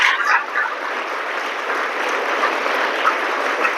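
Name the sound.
applause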